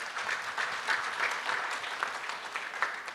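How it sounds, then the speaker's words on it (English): Audience applause at a national parole review summit, a fairly quiet, distant patter of many hands clapping, even and sustained without voices. "Can you give them a round of applause as he comes?"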